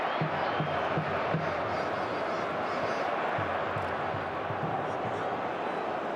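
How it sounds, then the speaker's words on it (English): Bradford City fans cheering in a packed stadium at the League Cup Final against Swansea City, a loud sustained crowd roar with chanting swells, filling the whole stretch. "there's a great cheer at the announcement of 3 added minutes from Bradford's fans"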